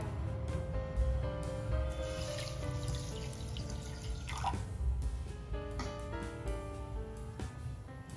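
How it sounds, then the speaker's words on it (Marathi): Water is poured onto a cup of sugar in a kadhai on a gas stove to make syrup, a soft continuous trickling and splashing with faint background hum. "एक कप साखरेसाठी अर्धा कप पाणी ऍड करून घेऊया"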